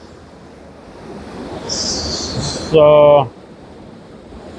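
Noisy river water rushes steadily and loudly close by, with a single brief spoken word and a short tonal sound rising above the flow.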